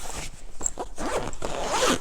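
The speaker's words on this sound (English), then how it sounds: "Zip that up, and it all gets into the bag." A Bagsmart travel bag is zipped closed in a couple of quick, rasping pulls, close and loud, with no talking.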